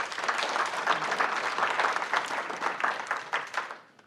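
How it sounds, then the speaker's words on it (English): An audience at a regular council meeting applauds after public testimony: steady, brisk clapping from a roomful of people that holds for several seconds, then fades out at the end. "I think I will ask you to hold your applause"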